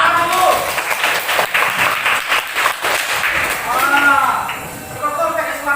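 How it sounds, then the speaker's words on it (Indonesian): Classroom applause for a student during a lesson, a burst of group clapping with voices mixed in, briefly easing before more clapping at the end. "Tepuk tangan buat An dulu"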